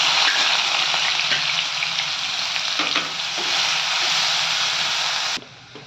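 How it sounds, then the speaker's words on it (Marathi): Onion frying in hot oil for pav bhaji, a loud, steady dense sizzle with occasional stirring scrapes that runs continuously, then drops abruptly near the end. "सर्वप्रथम आपण कांदा छान असं परतून घ्यायचा आहे."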